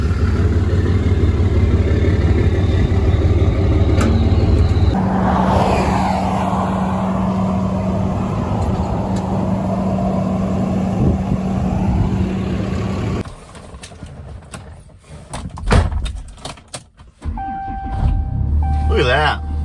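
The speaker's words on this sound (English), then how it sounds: "Dodge starts up." A Dodge truck engine cranks and starts, then runs at a steady idle, a low continuous rumble close by, with a brief louder burst of engine noise near the end.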